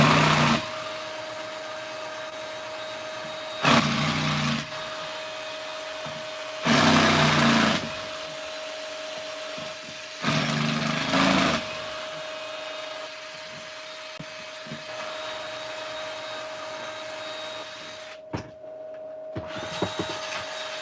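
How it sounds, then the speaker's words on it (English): Sanding on wood in a workshop comes in several loud bursts of a few seconds each over a steady machine hum with a constant whine. It sits in the background while a large maple bowl is roughed out. "he's sanding, so that's some of the other background noise"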